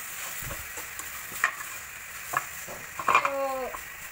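An egg fries with garlic in a pan, a steady soft sizzle running throughout, broken by a few light clinks of a utensil against the pan near the end.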